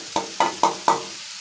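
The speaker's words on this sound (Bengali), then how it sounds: "জিরাটি একটু ভাজা ভাজা হয়ে গেলে আমি অ্যাড করব পেঁয়াজ ও রসুন বাটা আর আস্ত কাঁচামরিচ" Cumin seeds frying in a pan for a fish curry with potatoes, with four evenly spaced, crisp stirring scrapes over a steady background sizzle, close and alone.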